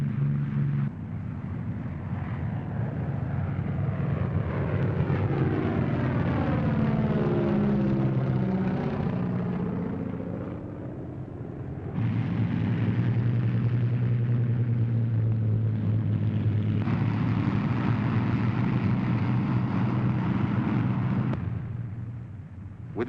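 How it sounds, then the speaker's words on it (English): WWII bomber planes take off from airfields across England in 1942, a sustained heavy engine roar that swells and shifts in pitch as aircraft pass. Layered propeller drones overlap continuously throughout. "Planes are taking off at the same time from dozens of widely dispersed fields all over England."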